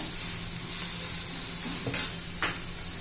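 Leftover chapati noodles are stirred and tossed with turmeric in a pan, with a soft steady sizzle, occasional scraping of a spatula against the pan and a couple of louder clinks near the end.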